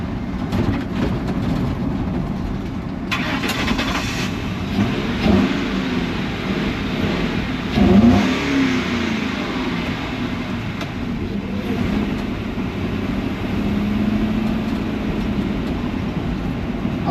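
Steady, rough running of a 1969 Jeep Wagoneer engine in neutral, rumbling continuously with slight swells as it revs; close, loud, and without speech.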